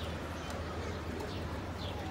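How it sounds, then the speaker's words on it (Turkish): Pigeons on a neighbour's rooftop terrace give soft, low cooing amid faint background hiss and a few light taps, fairly quiet and without clear speech. "Bakın komşum kuş uçuruyor."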